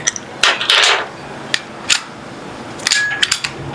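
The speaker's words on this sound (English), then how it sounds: "there's something in there that's preventing it from going forward. Look at how the bolt doesn't want to go." Bolt of a 9mm BinTac S45 Nitro airgun being worked by hand during a teardown, giving several sharp metallic clicks and ratcheting clacks spaced irregularly, close and fairly loud with no talk.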